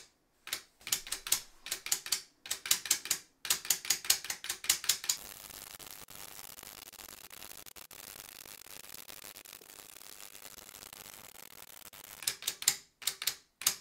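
Zip-tied solenoids on a modern musical beambot robot click in rapid rhythmic bursts, sharp ticking volleys separated by pauses, with a quieter stretch of faint mechanical noise in the middle before the clicking resumes.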